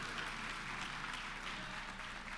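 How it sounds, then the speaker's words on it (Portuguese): A church congregation claps through a morning service, a dense, even patter of many hands sustained at moderate, slightly distant level with no voices over it. "Vamos aplaudir Jesus nessa manhã?"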